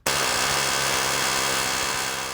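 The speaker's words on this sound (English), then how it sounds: "You can see even with an air hammer, these rivets are stubborn." Air hammer chiseling the heads off stubborn factory rivets on a 1966 Ford Bronco body, a loud, continuous, rapid pneumatic rattle running close and unbroken from start to end, with no talking.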